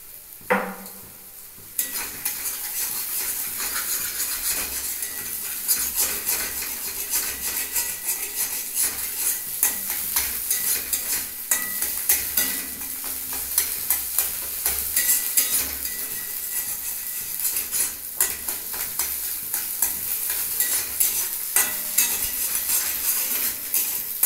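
Crispy fried noodles being stirred and fried in oil in a pan for veg chowmein, with steady sizzling and repeated scraping and clinking of a utensil against the pan, close and continuous throughout.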